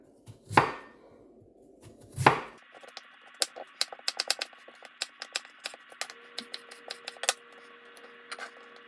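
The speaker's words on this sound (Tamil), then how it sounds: "இப்போ வந்து நான் உருளைக்கிழங்கு சிப்ஸ் ஏற்ற மாதிரி நான் இப்போ வந்து வெட்ட போகிறேன்" A knife cuts potatoes into thin slices for chips, with two dull heavy thuds first and then a run of quick, sharp, irregular taps on a cutting board, close and clear in a quiet room.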